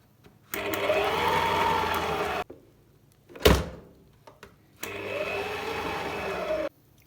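An electric mixer kneads gingerbread cookie dough in two bursts of steady motor whir, each about two seconds long, separated by a sharp knock and a brief clatter.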